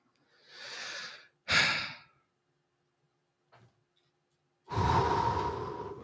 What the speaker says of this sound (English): Let's do some breathing exercises, kids.